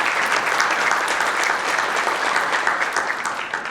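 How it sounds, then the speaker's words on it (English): An audience at a hotel group corporate event applauding, a dense, steady burst of clapping from many hands filling the room, loud and continuous with no voices over it. "Round of applause for our players, please."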